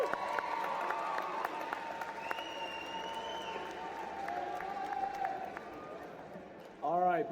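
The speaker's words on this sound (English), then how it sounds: "Let's get a round of applause." Applause and cheering from a crowd at a high school graduation ceremony, steady clapping throughout with a brief louder burst near the end, voices mixed into the crowd noise.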